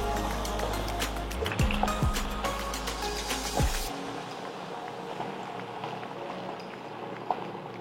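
Water being poured into a pan of browned chicken and potato curry, Goalondo steamer style: a steady rushing splash for a few seconds that stops abruptly, followed by quieter kitchen clatter and faint sizzling.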